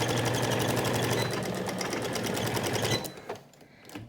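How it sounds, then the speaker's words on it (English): Sewing machine stitching and backstitching over elastic on a pleated cloth face mask, a loud steady rapid needle rhythm for about three seconds before it stops abruptly, leaving faint handling noise. "I'm just going to sew, and I kind of like to back stitch where there's elastic"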